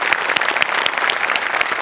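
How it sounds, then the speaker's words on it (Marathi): A studio audience at a Marathi comedy show claps hard and steadily, a close, dense wash of applause with no talking. "जोरदार टाळ्या."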